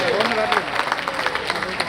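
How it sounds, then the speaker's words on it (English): Wedding guests at a Jewish wedding reception clapping after a speech, a burst of scattered hand claps from a room full of people, close and lively, with voices talking and calling out over it. "Let's give Gabe another round of applause for a wonderful speech."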